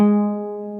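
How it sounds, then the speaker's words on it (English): One guitar note, played fingerstyle as part of a slow song arrangement, is struck once and left to ring, its steady tone fading gently under a sustained bass with no voice. "And then you play this note again."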